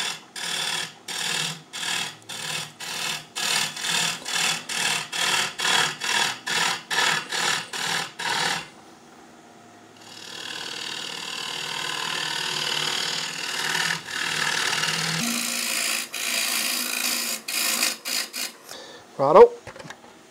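A 16 mm gouge cuts a mango wood slab on a lathe, turning it into cups: a loud, rhythmic chatter of regular cutting bursts, then a steadier hiss of continuous cutting, close and alone with no talk.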